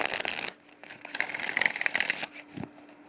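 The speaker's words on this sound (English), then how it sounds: "And one more shuffle here." Crisp riffling and flicking of shuffled tarot cards, a couple of quick bursts with soft handling noises between, close up and fairly quiet.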